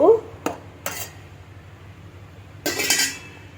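Kitchen clinks as rice lunch is packed into a tiffin box: a few sharp metal taps of a spoon against the container, then a brief scraping clatter near the end, close up in a quiet room.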